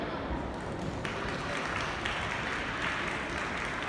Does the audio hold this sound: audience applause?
yes